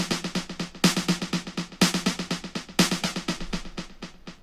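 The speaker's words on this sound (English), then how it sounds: "which is a higher fidelity tape echo." A plucky synth line runs through a delay plugin's hi-fi tape echo mode, a cleaner, brighter take on vintage tape echo: rhythmic repeated notes with crisp attacks and fading echo repeats, played alone and up front.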